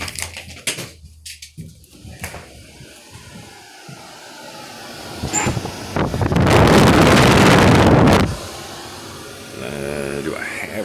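A homemade swamp cooler fan built from salvaged parts blasts air at the microphone, a loud, broad rushing roar that swells for a couple of seconds and then cuts off, framed by quieter handling noise and faint background sound.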